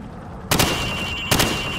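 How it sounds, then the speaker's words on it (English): A rifle fired from the hip at targets on a range in Call of Duty Modern Warfare, two loud, sharp shots roughly a second apart, each with a brief ringing tail against steady background hum. "Now, shoot at the targets while firing from the hip."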